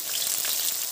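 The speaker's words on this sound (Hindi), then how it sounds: "तो फटाफट से मैं दाल में तड़का डाल देती हूँ।" Coriander and cumin tadka sizzling in hot oil for rajma dal, a steady close crackling hiss with no pauses, moderately loud, in a Himachali home kitchen.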